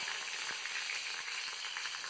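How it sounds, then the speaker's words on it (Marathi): Cumin, mustard seeds and curry leaves sizzle in hot oil as a tempering for Maharashtrian potato chutney, giving a steady close crackling hiss with small pops and no talking. "याच्यामध्ये टाकलं आपण जिरं, थोडी मोहरी, याच्यामध्ये टाकणार आहे आपण कढीपत्ता"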